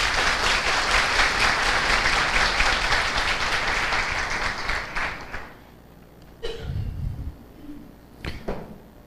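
Warm audience applause at a talk, loud and dense at first, then thinning into scattered claps before fading, followed by a few soft thumps and brief voices.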